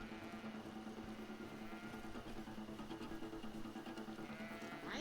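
Sheep in the video game Greedfall give soft, wavering bleats over a low droning in-game background, the calls faint and blending into the ambience.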